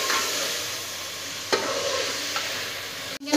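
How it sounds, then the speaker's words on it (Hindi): Eggplant stir-frying in a pan for aloo baingan salan, a loud continuous sizzle with occasional spatula scrapes and a sharp clank near the end, no talking. "बैंगन तो अच्छे से फ्राई हो गए"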